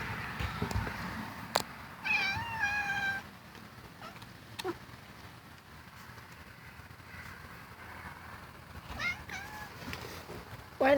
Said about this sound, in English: Why are these cats fighting?